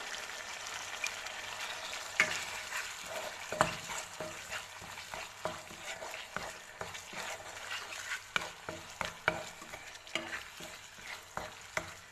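Spice masala fries in hot oil in a pan for a yogurt-cooked okra dish, with a steady close sizzle broken by sharp scraping clicks of stirring throughout.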